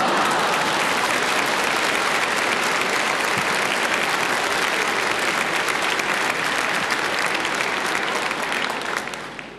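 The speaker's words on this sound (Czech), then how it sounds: "tak tleskejte, všichni tleskejte, protože já to mám hrozně rád." Audience at a 1974 Karel Gott stage show applauding in a loud, dense, sustained burst of clapping that holds steady and fades slightly at the very end.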